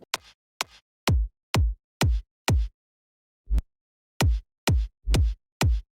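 A punchy electronic kick drum layered with a reversed kick, programmed in LMMS for a future house beat, plays alone as a loud, deep thump repeated in an uneven groove with a brief gap midway.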